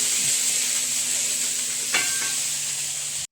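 Bitter gourd cooks in a pan, giving a steady, close sizzling hiss with a brief clink partway through, continuous and without talk.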